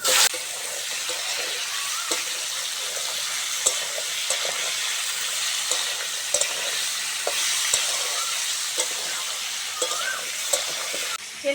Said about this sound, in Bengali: তেলের ওপর 5 ফোড়ন দিয়ে ঝিঙে আলুর ডাঁটাটা ভালো করে ভেজে নিচ্ছি